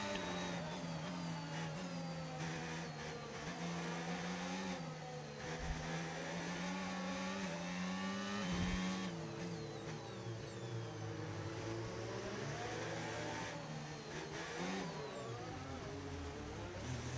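Race car in a racing video game drifts around the Monaco Grand Hotel hairpin, its engine droning and whining steadily with shifting pitch, gear changes and brief tyre chirps, loud and continuous with no voices.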